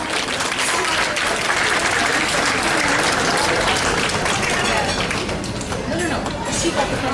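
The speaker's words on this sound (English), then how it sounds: "So she really deserves a hand of applause." Guests at an RSA annual banquet give sustained, full-room applause, a thick and continuous roar of many hands clapping at a steady level from start to finish.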